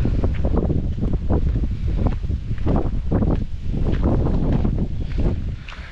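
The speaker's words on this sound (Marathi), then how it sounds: "मस्तपैकी हवा सुटली आहे एकदम." Strong wind blows outdoors at a hilltop fort, buffeting the microphone in loud, continuous gusts with rustling that fill the whole stretch.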